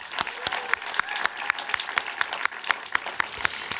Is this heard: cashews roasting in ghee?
no